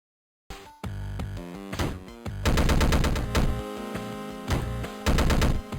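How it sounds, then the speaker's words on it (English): Gun boots firing in Downwell, a GBA-style video game, as rapid bursts of chiptune gunshot blasts in quick rattling volleys, loud and synthetic, following a short silence. "The infinite ammo cheat can be toggled on to allow you to fire your gun boots indefinitely."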